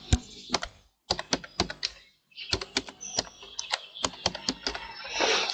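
Bursts of quick computer keyboard typing while filling an online application form, crisp close key clicks in short runs separated by brief pauses, with a soft rustle at the end.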